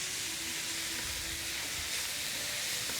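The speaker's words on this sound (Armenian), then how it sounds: "Թողնենք տապակվի" Mushrooms fry in a pan for a julienne in a home kitchen, giving a steady, close sizzling hiss that holds evenly from start to finish with no talking.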